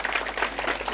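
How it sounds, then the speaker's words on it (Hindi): Audience applause at a live Hindi song performance, a short burst of dense, fast hand clapping from a crowd at steady loudness. "तालियां बजा करके आदेशित कीजिएगा।"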